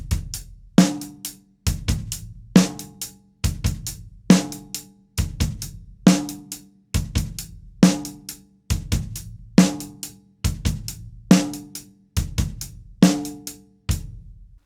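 A drumset plays a repeating ostinato of snare and bass drum hits, sharp and close, evenly spaced about every second with decaying ringing between strokes, no talk.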